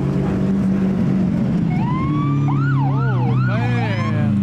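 A wailing ambulance siren rises and falls in sweeping tones over a steady engine rumble at a Houston cars and coffee meet, growing more prominent and layered toward the end.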